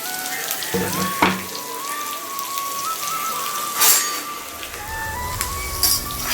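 Finely chopped small and big onions frying in hot groundnut oil with fennel seeds make a steady sizzle, broken by a few sharp crackles and spatters, with a faint whistling tone running underneath.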